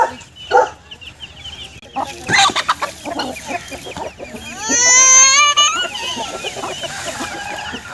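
In a Punjab village, a rooster and chickens cluck close by and often, with a crowing call in the middle and a faint dog bark in the background.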